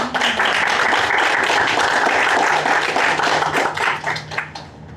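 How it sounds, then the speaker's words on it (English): A round of applause from the audience at the ForCoral Pavilion coral conservation session, dense energetic clapping close and loud for several seconds before thinning out and fading at the end. "so please a round of applause"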